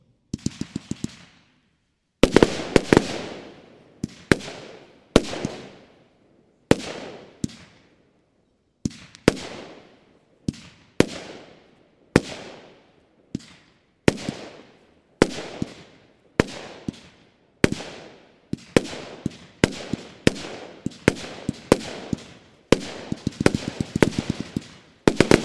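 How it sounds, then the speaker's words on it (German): A Choreo 25 mm 36-shot firework battery fires a long rapid sequence of loud sharp bangs, some single and some in quick clusters, each followed by a crackling tail and closing in a dense flurry. "Weiter geht es mit der Nummer 51, eine Neuheit aus unserem Hause, die Choreo, 25 mm, 36 Schuss"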